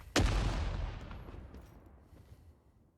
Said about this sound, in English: Oh, there comes the hand grenades.